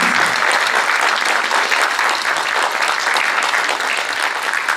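Sustained audience applause fills a concert hall during a plaque presentation, dense and steady throughout with no break.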